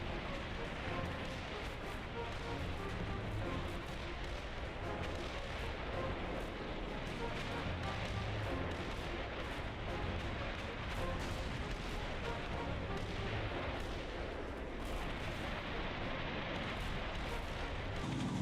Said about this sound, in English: The attack was preceded this time by an earth and building destroying 20-minute rolling barrage.